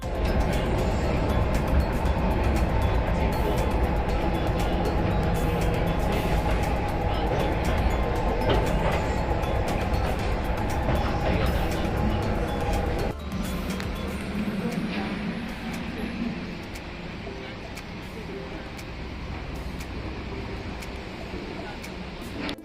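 Steady rumbling and rattling of a tram ride in Dubai, loud and continuous, with the noise shifting and easing partway through.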